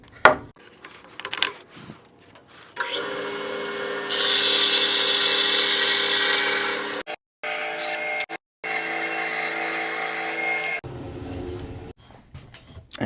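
A bandsaw notching a piece of wood for a slot-together project, a steady loud cutting whine running for several seconds with two brief breaks, preceded by quieter handling noises and fading to shop ambience at the end.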